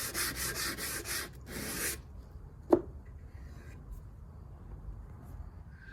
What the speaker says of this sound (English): Or you can even do it by hand with a sanding block.